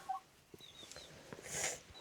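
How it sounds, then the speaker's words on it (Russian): A few quiet, scattered clucks from a hen sitting on her freshly laid egg nearby, with faint rustling and a brief hiss; no one speaks. "Там вон сидит курочка"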